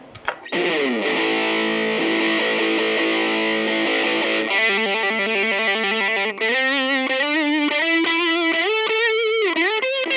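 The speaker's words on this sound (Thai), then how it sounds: "เป็นโอไดครับ เสียงแตกครับ" An electric guitar plays through the overdrive channel of an Aroma AG-04 portable amp, sustained distorted chords giving way to a crunchy, gritty melodic line, loud and continuous.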